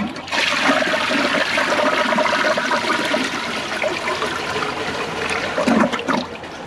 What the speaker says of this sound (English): let's start out with a flush